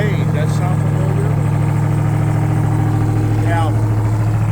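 A Ram TRX pickup truck idles with a deep, steady exhaust rumble, loud and close, with brief voices over it.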